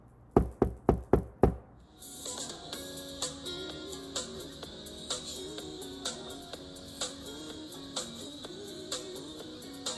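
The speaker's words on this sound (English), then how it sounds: "There's a knock at the adjoining room door." Five quick, sharp knocks land close on an adjoining hotel room door. Music starts right after the last knock and carries on.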